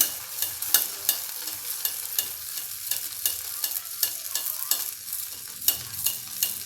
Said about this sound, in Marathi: आता मी आता तिसरा वडा टाकते तेल व्यवस्थित गरम आहे